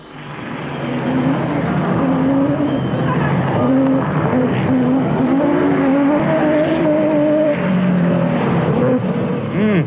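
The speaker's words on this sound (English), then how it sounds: "Reineke and Houghton were still at it when De Villiers, with Corbett in the Isuzu in hot pursuit, went blasting by." Rally race cars, a Toyota and an Isuzu, race in the Carnival City 400 in 2001. Their engines roar loud and close, rising and falling in pitch as they accelerate and shift, with a voice faintly under the noise.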